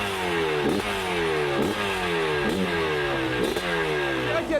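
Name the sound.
motorcycle engine running, 491 cc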